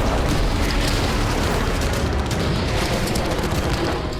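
Heavy gunfire from China aimed at a Myanmar MiG-29 fighter jet forms a dense, continuous barrage of rumbling booms, loud and unbroken throughout.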